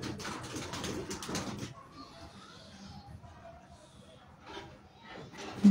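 Antique-breed pigeons coo softly and repeatedly near a handler, with people talking over the birds and some chatter and handling noise around them.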